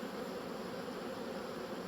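A dense, continuous drone of honeybees buzzing around a hive split being made from brood frames outdoors on an overcast day. The sound is close and steady with no voices.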